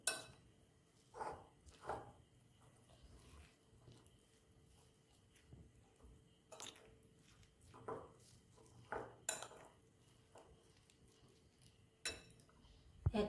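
Egg and soybean mixed with turmeric powder and salt in a bowl at home, heard as light intermittent clinks and scrapes of a utensil against the bowl, several soft taps spread through a quiet kitchen.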